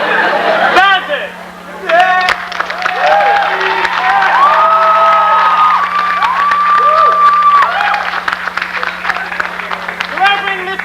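An audience at a stage performance of Drood applauds and cheers, a dense roar of clapping mixed with shouts and crowd chatter that runs almost the whole time, with voices rising over it.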